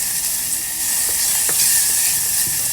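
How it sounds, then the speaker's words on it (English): Onion and garlic sweat gently in a pot, making a soft, steady close hiss with a few faint ticks and no talking. "sweat the onion and the garlic"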